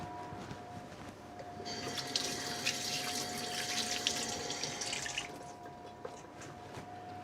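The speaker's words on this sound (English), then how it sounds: "I just want to give my hands a quick wash." A kitchen tap runs while hands are washed at the sink, a steady hiss of flowing water with splashing that swells for a few seconds in the middle, faint and close over a constant background hum.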